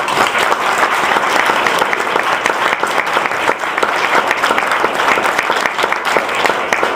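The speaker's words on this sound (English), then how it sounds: "I think that deserves some applause" Dense, steady audience applause fills a museum hall during a ceremony marking a donation of puppets to the Smithsonian National Museum of American History, sustained and even from start to finish.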